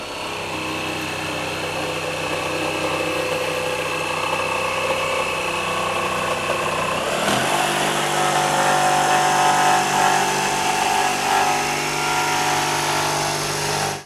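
RIDGID R86346B 18V sub compact barrel grip jig saw cutting steadily through wood, close and loud. A continuous whining motor drone holds throughout, with a change in pitch and load partway through the cut.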